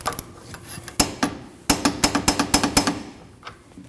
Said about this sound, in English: Then we're going to tighten this long bolt here. And that's 55 foot-pounds.